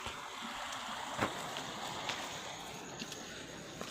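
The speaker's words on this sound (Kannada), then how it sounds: "ನೀರು ಮಾತ್ರ ಸಿಕ್ಕಾಪಟ್ಟೆ ತೊಗರಾಗ ಹೊಂಟವ್ರಿ ಫ್ರೆಂಡ್ಸ" Water running through a flooded pigeon pea field, a steady broad rushing wash with faint splashy ripples, continuous and fairly quiet throughout.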